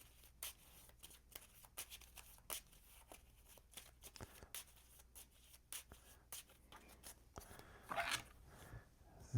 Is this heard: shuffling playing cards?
yes